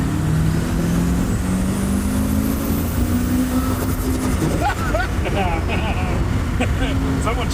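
Turbocharged TVR sports car accelerating hard on full boost, a loud continuous engine drone rising in pitch with a high turbo whine climbing over it, then whooshes and chatter as boost changes; a voice talks over part of it.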